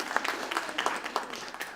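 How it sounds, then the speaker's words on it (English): Club meeting audience clapping, a moderate patter of hands with a few sharper individual claps standing out. "Let's all give her a big round of applause."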